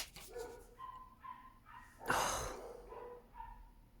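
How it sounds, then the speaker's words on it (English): A neighbour's dog gives a string of short barks and yips at a steady pace, some distance away, with one louder burst in the middle. "That's my dog, my neighbour's dog,"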